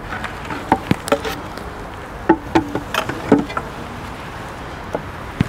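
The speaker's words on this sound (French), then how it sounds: "On a beaucoup d'abeilles présentes" Honeybees buzz around an open hive of an orphaned colony while the frames are being inspected. Nearby individual bees zip past in short buzzing passes over a low background hum, with small handling knocks mixed in.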